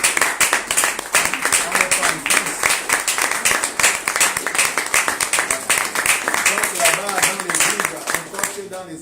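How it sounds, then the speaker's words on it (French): A church congregation applauds loudly and steadily throughout, dense clapping with rhythmic accents, with voices mixed into the crowd noise. "avec une grande acclamation"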